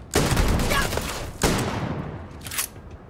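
Rapid weapon gunfire in the space game Starfield, two loud bursts of shots, the second shorter and followed by a brief sharp report, with no talk over it.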